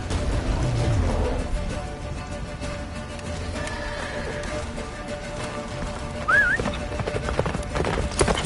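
Roach the horse gallops in The Witcher 3 on PS4, with steady, fairly close hoofbeats running under a dense, rain-like wash of game ambience.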